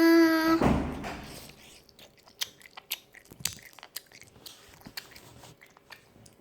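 Edible insects being bitten and chewed up close, a loud opening crunch followed by a run of sharp, irregular crunchy bites and mastication, moist and crackly, with no talk.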